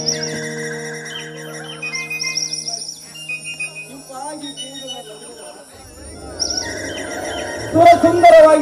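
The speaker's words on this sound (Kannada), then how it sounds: "ಸುಂದರವಾಗಿ ಹಾರಾಡುತ್ತಿರುವ ಹಕ್ಕಿಗಳ ಸದ್ದು" Birds chirp and tweet in an outdoor stage-play setting, a steady mix of calls under background tones and music that swells near the end.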